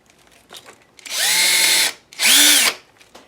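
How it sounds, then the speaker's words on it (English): A very tiny drill bit whirs through resin in two short bursts, each roughly a second long, the motor winding up and down close by with quiet gaps between. "I'm taking a very tiny drill bit and I'm just making a starter hole"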